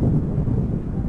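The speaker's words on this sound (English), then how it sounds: "I'm aware it's a bit windy" Wind buffets the microphone on a London rooftop, a steady low rumbling roar that fills the whole moment with no pauses.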